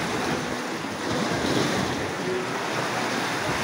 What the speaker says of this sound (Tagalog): Ayan o mga kapobre, malalaking alon.